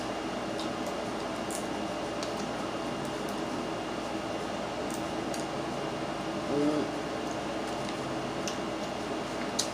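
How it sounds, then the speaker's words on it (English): An air conditioner runs steadily indoors as a low, constant hum and faint hiss, with occasional small clicks and soft ticks but no speech. "Sorry if y'all hear the air conditioner in the background."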